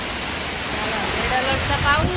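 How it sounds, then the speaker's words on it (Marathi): Heavy monsoon rain during flooding pours down in a dense, steady roar, with a voice speaking faintly underneath. "पाऊस बघा तुफान पाऊस आहे"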